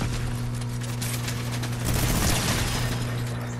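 Sustained rapid gunfire from a minigun and SMGs rattles continuously in a Fortnite match, dense and loud with a steady low drone underneath.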